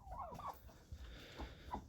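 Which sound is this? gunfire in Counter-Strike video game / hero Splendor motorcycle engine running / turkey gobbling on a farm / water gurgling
turkey gobbling on a farm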